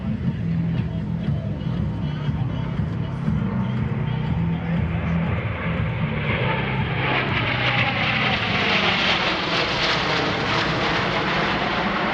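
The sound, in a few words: C-17 Globemaster III military transport aircraft flying past at airshow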